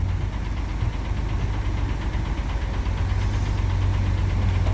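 Heavy road machinery compacting soil during an emergency mountain highway repair, its engine running as a steady, close, droning rumble with knocking vibration and no speech.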